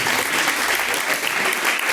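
Congregation at an IPDA church service claps together in praise, loud, dense, continuous clapping from many people filling the room at a constant level.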